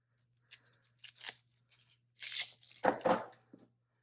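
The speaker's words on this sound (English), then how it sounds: "we are just going to slice the plastic open" Plastic packaging around acrylic paint pens is sliced open with a blade, giving a few sharp, close cutting and tearing bursts, the loudest two near the end, between quiet pauses.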